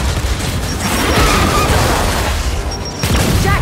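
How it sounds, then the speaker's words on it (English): A frag grenade goes off in the shooter Gears 5, a loud, close boom that swells into a rumbling blast and debris noise and then a second burst near the end. "Throwing frag! Throwing grenade!"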